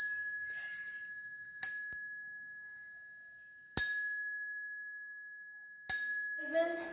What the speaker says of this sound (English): Cycle bells, yes,